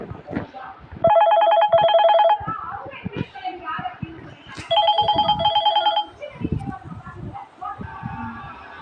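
A phone ringtone sounds during a PK XD mobile game session, two loud, bright ringing bursts of about a second each separated by a pause, with a person talking between and after them.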